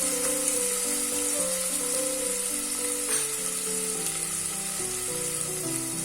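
Prawns sizzle and fry steadily in a pressure cooker for prawn biryani, a continuous close hiss running under background music.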